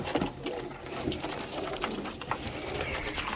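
Pigeons coo softly and repeatedly amid a busy, steady background of other noise, with no voices.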